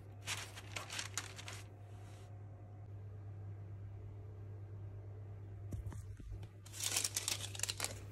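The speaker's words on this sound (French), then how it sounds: "froissez un petit morceau de papier cuisson et le glissez dans le trou" A small piece of baking paper is crumpled by hand while shaping puff-pastry Easter rabbits: two bursts of close, crisp crinkling, one at the start and one at the end, separated by a quiet stretch with a steady low hum underneath.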